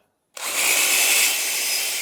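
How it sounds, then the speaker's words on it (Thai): A DeWalt DCD996 cordless drill bores into ordinary softwood at full speed, starting abruptly after a brief silence and holding a loud, steady high-pitched whine with no pauses. "หมวดที่สามนี่กดสุดนี่เจาะเร็วมากนะครับ"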